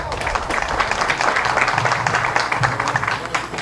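Crowd at a classroom inauguration ceremony in a rural village clapping, a continuous mid-level patter of many hands, with some voices mixed faintly underneath.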